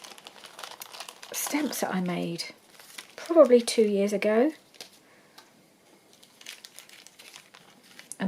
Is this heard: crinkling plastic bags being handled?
yes